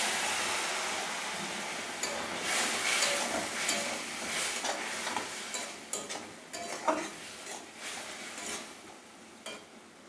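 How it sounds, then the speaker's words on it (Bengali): A spicy masala of taro stolons with shrimp is stirred in a pan with a splash of water, giving a soft continuous sizzle broken by scraping stirs and light utensil clinks, with no talking. "সামান্য একটু জল দিয়ে আমি কষিয়ে নেব"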